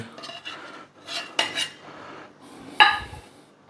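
A deep spoon clinking and scraping against a pot as Afghani-style namkeen mutton rosh is dished out, giving a few distinct close metallic knocks with quieter scraping between them and no talking.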